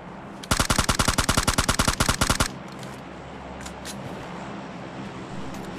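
Rapid automatic gunfire from the video game PUBG Mobile Lite rattles out in one dense burst of about two seconds, loud and close. Quieter ambient game noise follows after it, with no talk.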